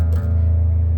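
An unmuted low sixth guitar string is struck once with a pick and rings out loud and sustained, with a bright attack at the start fading into a steady low drone.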